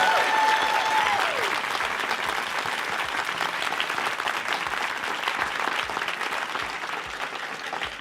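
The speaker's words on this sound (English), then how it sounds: "If we can give our guests a massive round of applause for being here." Warm, steady applause from a live audience thanking guests at an evening event, thick continuous clapping that holds for several seconds with a brief voice at the start.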